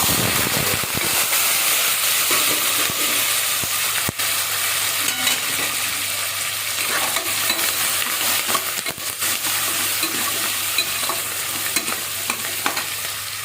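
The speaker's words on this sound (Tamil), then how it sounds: "வெங்காயம் நல்லா வதங்கிடுச்சு." Onions and garlic, including whole small onions, sauté in a pan for dal rice, giving a steady close sizzle and hiss with scattered stirring scrapes throughout, without voices.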